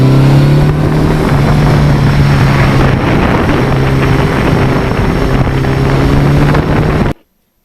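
A one-owner 1982 Suzuki GS1100E motorcycle on a ride, its engine droning steadily and loudly with wind rush throughout, then cutting off abruptly near the end.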